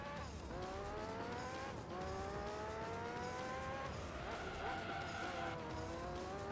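Tyres squealing on worn, wonky rubber in Gran Turismo 3, a continuous high whine that rises and bends over steady engine roar as the car slides through corners.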